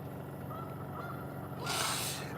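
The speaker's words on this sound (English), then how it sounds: "You hear the geese? Listen." Geese honking by a lake at night, heard faintly in the distance near a campsite tent, with a broader burst of noise toward the end.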